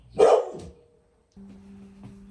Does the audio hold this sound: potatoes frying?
no